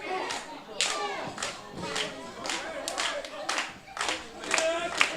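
A wrestling crowd claps in rhythm at a pro wrestling show, a run of sharp, loud claps repeating about every half second, with voices and cheering mixed underneath.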